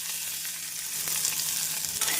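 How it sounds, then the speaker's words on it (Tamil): Broad beans sizzling and frying in hot oil with mustard seeds and urad dal, a steady close hiss with faint stirring, no voices. "அவரைக்காய் சேர்த்து மீடியம் ஃப்ளேமில் 1 நிமிடம் நன்றாக வதக்க வேண்டும்."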